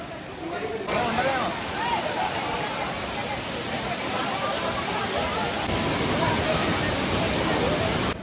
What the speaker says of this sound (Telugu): అక్కడ నుంచి మేము వెళ్ళిపోయాము ఒక వాటర్ ఫాల్ దగ్గరికి